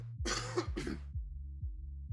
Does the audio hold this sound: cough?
yes